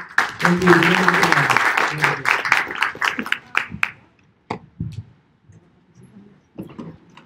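A crowd claps loudly for a few seconds while a voice speaks over it, then the applause thins into scattered claps and quiet talk.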